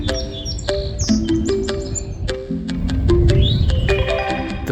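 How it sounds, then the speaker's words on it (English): An eastern towhee calls in early spring at Tommy Thompson Park, Toronto, its loud, close chirps and short whistled notes repeating among other bird calls over a steady outdoor background. "The bird that is currently going ooey, ooey is the Towhee."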